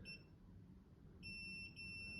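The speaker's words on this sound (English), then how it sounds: "Scooter's beeping." A Segway Ninebot Max G2 electric scooter beeps steadily with high electronic tones over a low hum, with a louder, sharper beep pattern starting partway through and pulsing in short repeats.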